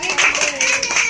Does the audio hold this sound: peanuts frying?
no